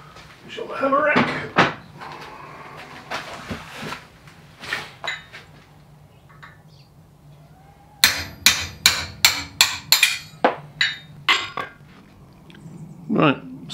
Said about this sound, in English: So we're just going to knock that out on the anvil.